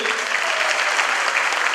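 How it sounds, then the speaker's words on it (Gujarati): Loud, sustained applause from a large audience at a community gathering, many hands clapping densely and evenly without a break. "જોરદાર તાળી થવી જોઈએ"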